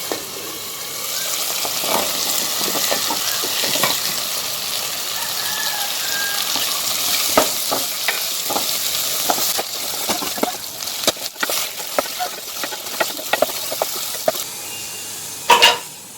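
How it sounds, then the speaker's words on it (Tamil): Carrots and potatoes sizzle and fry steadily in a pan, with occasional scraping and stirring clatter, a spoon knocking against the pan near the end. "அடுத்ததாக நறுக்கி வச்சிருக்க கேரட்டு உருளைக்கிழங்கை போட்டு வதக்கி விட்டுலாம்."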